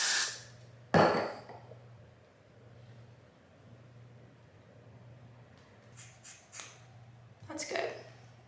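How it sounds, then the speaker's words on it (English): Hair spray sprayed during a half up half down quick weave styling, a short hiss heard near the start and a few brief bursts later, faint and close against a low steady hum. "With another spray."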